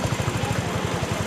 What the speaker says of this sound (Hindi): और ये हमारे टीम वाले सभी बाइक्स